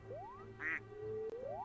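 A cartoonish duck quacks in a video game, a few short nasal squawks with rising pitch glides, clear and fairly close against a quiet background.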